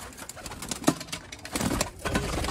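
Soft coos from Chapda pigeons sound intermittently over a faint background, a few low murmuring calls spaced through the clip.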